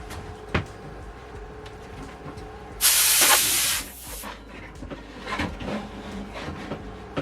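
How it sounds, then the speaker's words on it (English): A short, loud burst of gas hisses from a welding gas cylinder as the regulator is fitted onto its valve, rising sharply and holding for about a second before cutting off, with quieter handling noises before and after. "A little bit of a gas escaped,"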